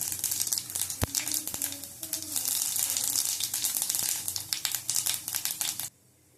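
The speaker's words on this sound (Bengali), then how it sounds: "আমি একটু পাঁচফোড়ন দেবো তোমরা কালো জিরে দিতে পারো পাঁচফোড়ন দিয়ে দিলাম" Panch phoron spices hit hot oil and burst into loud, dense crackling and sizzling, popping continuously before cutting off abruptly near the end.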